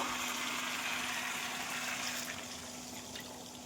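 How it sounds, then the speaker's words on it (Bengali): Hot water poured into a pot of mutton and potato curry, a continuous rushing stream of water that gradually eases and grows softer toward the end, with no talking. "এবার এর মধ্যে দিয়ে দেবো আমি পরিমাণ মতো জল"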